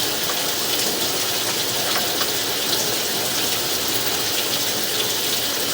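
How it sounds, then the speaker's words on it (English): Water runs steadily through a drain pipe during a sewer camera inspection, a continuous close hiss and trickle that holds even throughout. "we'll leave this water running also the way as we pull back"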